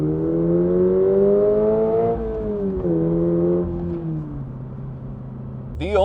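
The boxer engine of a 2026 Toyota GR86 Yuzu Edition is held at high revs near 7,500 RPM and then eases down, a loud close buzzing drone that falls in pitch in steps before a brief sharp blip at the end.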